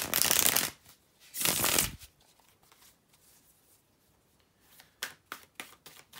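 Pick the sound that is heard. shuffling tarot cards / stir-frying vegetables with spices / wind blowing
shuffling tarot cards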